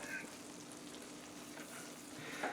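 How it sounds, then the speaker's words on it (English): A butter and flour roux, equal parts, cooking in a pan over medium heat, giving a soft continuous sizzle with a few light stirring scrapes, quiet and close. "Like I said, we're just making a roux."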